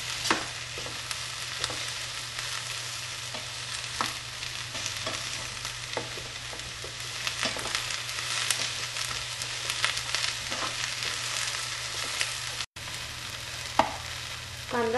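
Onions frying in a pan for a veg pizza topping, a steady close sizzle with occasional stirring scrapes, going on for about fifteen seconds without any talk.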